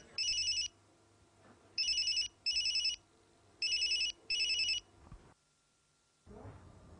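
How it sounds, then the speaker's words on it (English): A mobile phone rings in repeated electronic bursts, short trilling chirps in pairs with pauses between, fairly clear against a quiet room before stopping and a faint rustle follows. "All of a sudden, the mobile phone of one of the terrorists rang."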